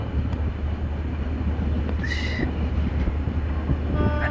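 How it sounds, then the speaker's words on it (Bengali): A fast-moving train in Guwahati gives a steady, loud rumble and rolling roar throughout, with a brief high squeal midway and no talk. "ট্রেনে খুবই গতি স্পিড দিচ্ছে, এখন স্পিডটা দেখুন শুধু।"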